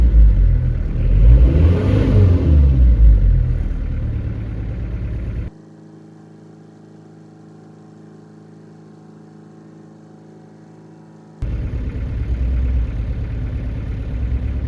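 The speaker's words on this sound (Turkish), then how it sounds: "Yine gaz vererek göstereyim, bakın. Gaz veriyorum." A car engine revs hard as throttle is applied, a loud rising roar for several seconds, then drops to a low steady idle hum before the revving returns near the end.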